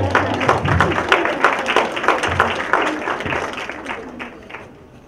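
An audience applauds at an academic talk on international humanitarian law and cyberspace, a dense burst of many hands clapping that holds strong and then tapers off toward the end.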